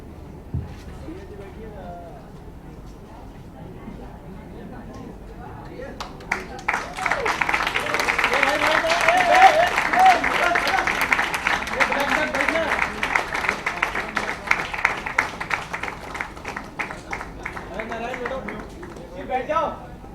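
Audience at a book launch for "The House That Spoke" bursts into sustained clapping and crowd noise that builds midway and carries on to the end, with talking mixed in beneath.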